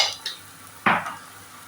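Peppercorns and a pinch of turmeric frying in a pan for a baby corn paneer curry, with short scraping stir strokes over a faint, close sizzle.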